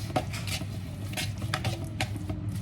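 Curry powder is stirred in a pan, with repeated scraping strokes of a utensil against the metal and a faint sizzle underneath, close and fairly quiet.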